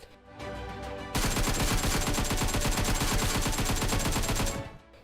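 Rapid bursts of automatic gunfire in PUBG Mobile, loud and sustained for several seconds, with dense repeated shots over a steady synthetic background hum.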